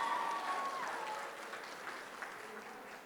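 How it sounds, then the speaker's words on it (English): Wedding reception guests clapping for the newlywed couple on stage, a steady wash of applause filling the room and tapering slightly toward the end, with a brief tonal whistle or squeal early on. "Let's all give a huge round of applause for this absolutely stunning couple on the stage."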